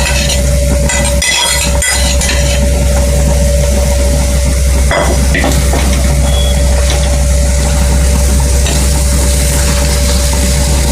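An egg goes into frying tomato and capsicum thokku, a steady loud sizzle with clinks from a utensil and a few short stirring scrapes, and no speech over it.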